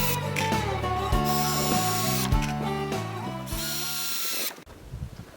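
A power drill drives screws into the wood of a guillotine-style trap door for wild pigs, several loud whining bursts that rise and stop in quick succession, close up, ending in a few clunks of handling.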